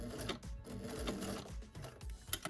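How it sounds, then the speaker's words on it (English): A sewing machine runs in short bursts, its needle thumping rhythmically as it stitches backstitches on a doll's T-shirt, close and fairly quiet. "I'm going to take a few back stitches"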